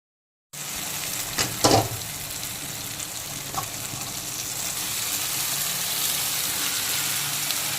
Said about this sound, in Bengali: এখন ভাজা পটল আর সয়াবিনটাকেও একইভাবে মশলা আর আলুর সঙ্গে আবারও 2-3 মিনিট খুব ভালো মতো কষিয়ে নেব